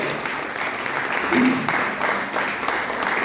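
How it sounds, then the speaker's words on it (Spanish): Congregation applauding for the King during a Sunday church service, a steady dense wash of clapping throughout with voices mixed in underneath. "dale un buen aplauso al Rey"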